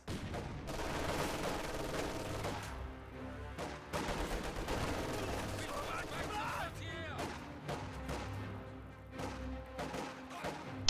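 Dense machine-gun fire and rifle grenade blasts in a World War II strategy game battle, a sustained loud barrage of rapid bursts and thumps with a voice talking over it.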